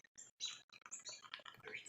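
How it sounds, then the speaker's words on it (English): Cardinals, finches and sparrows chirping in busy, overlapping bursts of high tweets and trills, close and fairly faint, with short gaps between calls. "Cardinals, finches. They're all getting after it."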